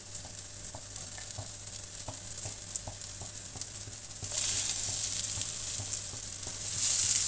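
Kebabs fry in oil in a pan over low heat, giving a steady close sizzle with faint periodic taps from turning or stirring, the hiss growing louder partway through.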